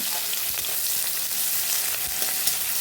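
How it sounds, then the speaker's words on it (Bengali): Chopped onions frying in oil with five-spice for a light gourd and small-fish curry, a continuous dense sizzle with faint scraping of stirring, alone and even. "এর মধ্যে দিয়ে দিচ্ছি পেঁয়াজের কুচানো পেঁয়াজ কুচানোগুলো ভালো করে ভেজে নেবো এইভাবে"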